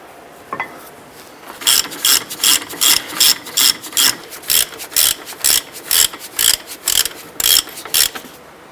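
A ratchet tightens brake caliper bracket bolts on a 2005-2010 Jeep Grand Cherokee, giving a close, brisk run of rhythmic clicking bursts, one after another, with a single metallic tap just before they start.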